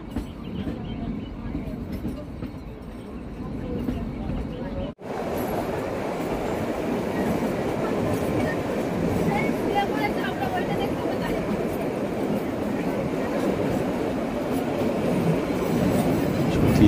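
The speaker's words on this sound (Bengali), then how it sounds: "এই এমন সুন্দর বাঁক নিয়ে আমাদের এই টয় ট্রেন চলছে" The Shimla toy train rolls around a curve with a steady, loud rumble and rattle of wheels on rails. A brief drop in the noise comes partway through, and voices talk over it.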